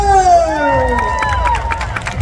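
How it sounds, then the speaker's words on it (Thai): An audience at a live fan event cheers and applauds, with a burst of sharp claps near the end rising over voices and a fast-changing crowd murmur. "ปรบมือ"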